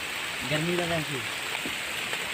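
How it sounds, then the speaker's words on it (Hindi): Heavy rain pouring down outdoors, a steady dense hiss throughout, with someone speaking briefly over it. "बारिश बहुत ज़्यादा तेज़ हो चुकी थी"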